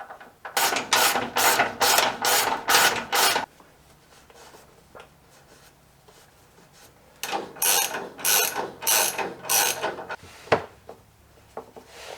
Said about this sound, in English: we're going to put the cheater bar on this ratchet here